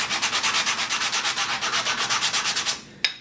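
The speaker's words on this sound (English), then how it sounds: "Use the sanding block, and this is more of a rough sanding block." Rapid, rhythmic scraping strokes of a coarse sanding block rubbing across a wooden hockey stick plug, about eight strokes per second, close and loud, ending with a sharp tap.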